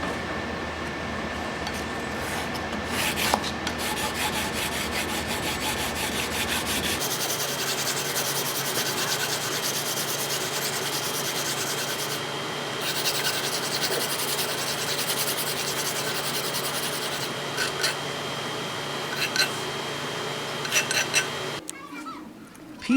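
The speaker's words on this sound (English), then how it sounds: "PCB grinding rough edges." Steady abrasive rubbing as the rough edges of a homemade circuit board are ground down, a continuous close scraping that runs for most of the stretch with a slight shift in tone partway through.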